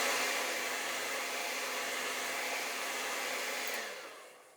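A hair dryer blows on acrylic paint with a steady, close whooshing roar that cuts off near the end, leaving quiet.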